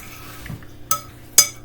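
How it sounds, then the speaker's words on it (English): Biscuit dough mixture being stirred in a bowl with a utensil, giving two distinct sharp clinks of metal against the bowl amid quiet scraping, with no talking. "mix it up really good."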